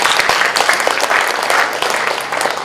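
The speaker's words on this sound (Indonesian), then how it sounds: "kasih aplaus buat Trisakti" An audience at a university focus group discussion gives a round of applause, a dense, loud wash of many hands clapping that holds steady throughout without any speech.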